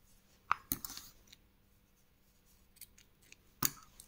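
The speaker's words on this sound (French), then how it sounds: "Je vais pouvoir couper mon fil." Scissors snipping crochet yarn during a French crochet bow-tie project: two sharp, close snips about three seconds apart, with soft handling clicks between them in a quiet room.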